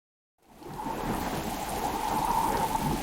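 Steady, fairly loud rainfall with rolling thunder begins after a short silence and continues evenly to the end, with no voices present.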